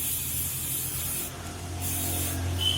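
An aerosol spray paint can hisses steadily and close up while coating a helmet, one continuous spray with a slight shift in pressure midway and no pauses.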